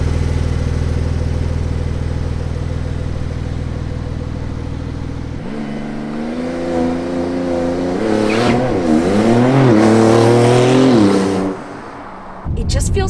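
A Porsche 911 Turbo S engine idles with a deep rumble, then revs and accelerates hard while driving, pitch climbing and shifting through gears, loud and close.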